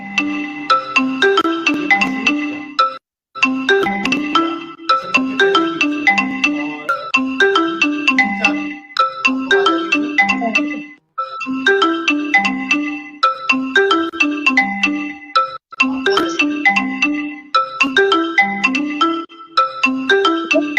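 A melodic electronic ringtone plays over and over in a steady looping pattern, loud and clear, with brief pauses between repeats.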